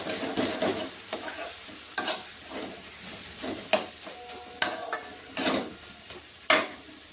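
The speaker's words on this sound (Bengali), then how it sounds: "আমি এখন এগুলোকে একটু নেড়ে চেড়ে নামিয়ে ফেলতে পারবো।" A spoon stirs bottle gourd and moong dal ghonto in a pan over a low gas flame, a soft sizzle running underneath while scraping strokes land roughly every second, each a sharp clatter against the pan.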